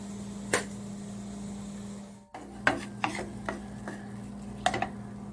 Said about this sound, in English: continue with the vegetable to stir fry the vegetables